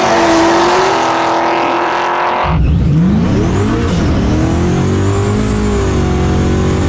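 A 1000hp Procharged LS-powered all-wheel-drive Oldsmobile revs loudly and steadily, the engine note dropping abruptly then climbing again in a sustained, roaring rev that fills the whole clip with no talk.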